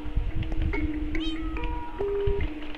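A Minecraft cat meows a few times amid other game sounds and steady background tones, fairly close and clear.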